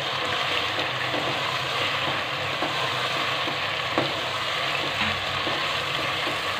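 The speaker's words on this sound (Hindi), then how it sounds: "अब हम 5 मिनट इस अदरक लहसुन के पेस्ट को इसमें भूनेंगे" Ginger garlic paste sizzling and frying steadily in hot oil in a pan, a continuous dense crackle with occasional soft stirring scrapes, close and even throughout with no talk.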